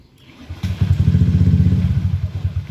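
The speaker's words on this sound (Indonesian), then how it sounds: "Coba kita tes nyalain motornya" A Honda Beat injection scooter is started after a click and settles into a close, steady putter of its small engine idling, loud and continuous with no talking.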